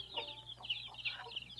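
A chicken clucking in short, repeated bursts, fairly faint and close, with a steady low hum underneath and no talking.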